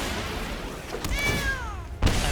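A cat meows in the card game MTG Arena, one clear, drawn-out meow rising then falling, followed by a short thud, over a steady bed of game background sound.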